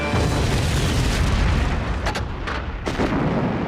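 Royal Artillery guns firing during the 1941 battle at Kampar in northern Malaya, a loud continuous rumbling barrage with several sharper booms cutting through near the end.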